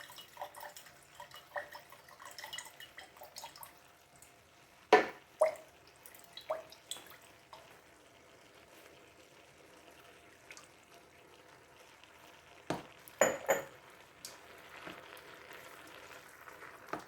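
Beef broth splashes and drips into a pizza sauce jar as it is rinsed out for a lasagna, a quiet, sporadic trickle with a few louder sloshes.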